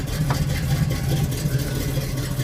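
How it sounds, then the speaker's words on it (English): A 1974 Chevrolet Camaro LT V8 idles steadily close by, a deep, even rumble holding at one pitch without revving. "the noise, the way this car sounds is just gorgeous"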